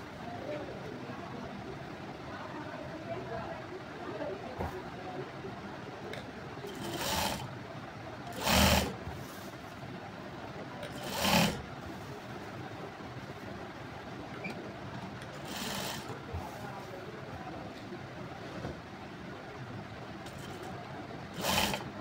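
A sewing machine stitches a jacket's lining together with a decorative net overlay around the waist, running as a steady mechanical whir with a few louder bursts over faint background noise.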